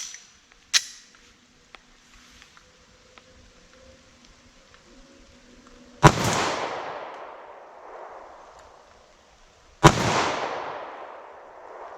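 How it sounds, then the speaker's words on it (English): Two loud, sharp pistol shots fired at a target from about 50 yards outdoors, each followed by a rolling echo, after a fainter crack earlier on; no talking. "Typically this pistol is really reliable. But with this ammo it just doesn't seem to like it"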